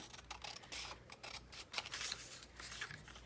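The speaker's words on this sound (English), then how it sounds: "So we're gonna cut this." Scissors snip through a Dylusions collage paper sheet with a few quiet, crisp cutting clicks and soft paper rustle, close and faint, with no talking.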